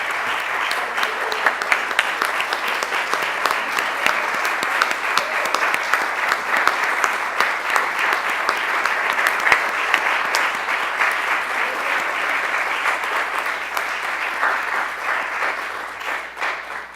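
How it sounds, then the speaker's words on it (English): Theatre award audience applauding honoree Adelheid Roosen, sustained, dense clapping from a large crowd. It holds steady for many seconds, then thins slightly at the end. "Adelheid, we want to give you one more round of applause and a little something else."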